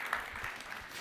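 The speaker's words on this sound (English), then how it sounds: "Can I get a round of applause for Sandy for working on diabetes?" Brief burst of audience applause in a lecture hall at a talk, a quiet, even patter of many hands clapping for a moment.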